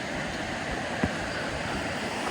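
A river flows beside a hotel in Helen, Georgia, producing a continuous broadband rush of water that stays steady and fairly close, with one brief knock partway through and no talk.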